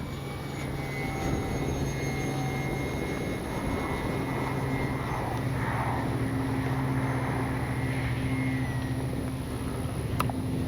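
FMS PC-21 Pilatus RC model airplane with gear down and landing flaps making a low pass, a steady engine drone holding at a constant level over ten seconds against outdoor background.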